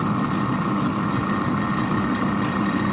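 A vacuum pump runs during installation of a 2 PK Polytron standing air conditioner. It gives a continuous, loud mechanical drone with a steady hum and a hissing edge, close by and with no talk.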